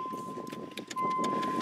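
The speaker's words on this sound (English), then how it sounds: "We got the keys of the 626. I'm gonna stick me in the ignition." Car keys jangle briefly as they go into the ignition of a Mazda 626, soft and close, over a steady high warning chime that runs through the whole moment.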